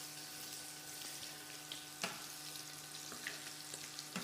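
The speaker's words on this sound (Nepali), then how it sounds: "अब यता माछा फ्राई हुँदैछ।" Fish frying in a pan on a home kitchen stove gives a steady, close sizzle with soft crackles and a few sharp clinks of a utensil, and nobody talks.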